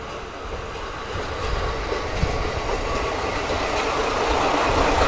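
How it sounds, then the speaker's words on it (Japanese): A rapid train on the Nemuro Main Line rolls into a station, a steady loud rumble with wheel clatter that builds gradually as it draws nearer. "早速もう一本の列車、根室本線がやってきます。"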